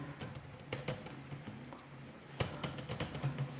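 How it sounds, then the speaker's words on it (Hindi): Quick, uneven key clicks on a computer keyboard while filling in a form in MS Access, soft and close, with a short pause before a final flurry of taps. "मैं अभी के लिए ऐसे ही कुछ तो टाइप कर रहा हूँ"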